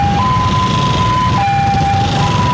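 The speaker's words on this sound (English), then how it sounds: "Luckily the ambulance is not going this way" An ambulance siren wails in steady, stepped tones over a dense roar of congested city traffic in heat, the siren loud and continuous with no talk.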